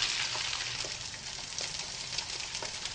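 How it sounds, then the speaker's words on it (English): Eggs crackle and sizzle in a frying pan, a steady dense hiss of fat with small pops scattered throughout, close and continuous with no voices. "Looks like a frying pan and some eggs to me."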